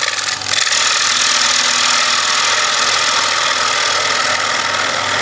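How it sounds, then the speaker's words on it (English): A wood lathe spins while a bevel-rubbing cut shapes a bowl held in a vacuum chuck, a loud continuous rushing hiss of the tool on the wood over the machine's hum, close and steady with no talk. "We can do a bevel rubbing cut."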